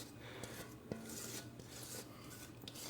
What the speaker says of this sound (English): Scrape that pan.